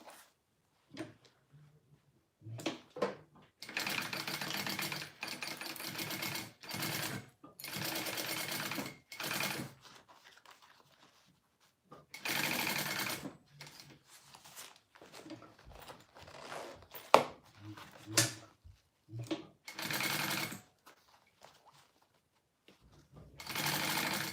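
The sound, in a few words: sewing machine stitching a seam on a wristlet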